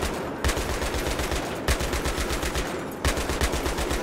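Sustained automatic machine gun fire in the video game Battlefield 3, a rapid continuous rattle of shots with two brief breaks, loud and close, no talk.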